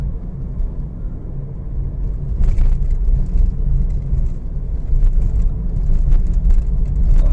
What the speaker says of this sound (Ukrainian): зараз от ми з'їжджаємо з горки, то швидкість майже не збавляється, зато йде рекуперація зарядка електромобіля